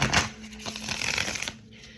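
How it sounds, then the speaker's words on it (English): A large deck of cards is shuffled close up in a couple of quick riffling bursts over two seconds, with soft card rustle between them. "this deck is so big I'd be having to shuffle it in sections"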